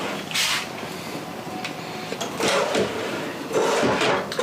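A utensil drawer in the kitchen of a 2019 Forest River Cherokee 294BH bunkhouse travel trailer slides and knocks open and shut several times, with close, brief thuds and rattles.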